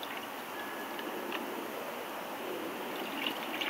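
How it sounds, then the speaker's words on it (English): A skinned squirrel carcass is swished around in a little cool, clean water, giving a steady close-up watery rush with faint ticking splashes and no talk. "Take your squirrel, swish him around in a little bit of cool,"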